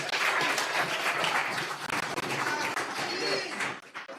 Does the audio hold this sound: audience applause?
yes